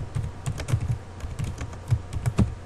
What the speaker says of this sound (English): Here I'm going to type my name.